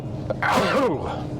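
A single sharp sneeze close to the microphone inside a 2022 Kia Cerato, a quick intake followed by a loud voiced burst over a low background hum.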